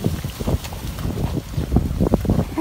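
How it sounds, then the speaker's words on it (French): Gusty wind buffets the microphone in irregular bursts, rumbling and flapping close up with no voices. "Ah, il y a un bon vent."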